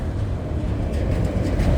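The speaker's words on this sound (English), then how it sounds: "Giant unit train of auto racks." A long CSX freight unit train of auto racks rolls past at close range, a continuous low rumble and rattle of wagons with no break over the short stretch.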